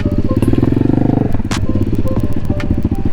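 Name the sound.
motorcycles riding by in the street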